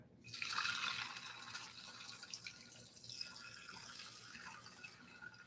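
Liquid pours into a hot pan during a keto cooking class, a bright sizzling hiss that flares up loudly at first and then settles into a steady, crackling fizz with no talking.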